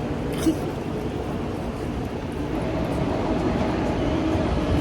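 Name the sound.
train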